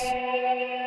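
A sustained guitar tone swirls with a sweeping flanger and washy reverb from an Old Blood Noise Sunlight dynamic reverb pedal, steady and fairly loud, with no one talking.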